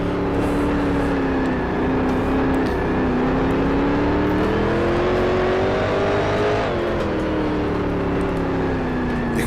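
A 1960s race car in the Grand Prix Legends sim accelerates hard, its engine whine climbing steadily in pitch through the gears with a short dip at a shift, loud and constant throughout.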